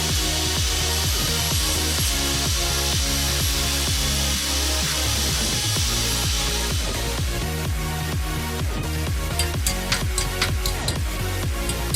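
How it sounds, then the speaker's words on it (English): A flat disc grinder rounds off the ends of a drilled and cut metal bracket, giving a continuous loud harsh whir with steady rhythmic pulsing, then a brighter rasping grind with scattered sharp ticks near the end, heard alone and up close. "the ends were rounded off using a flat disc"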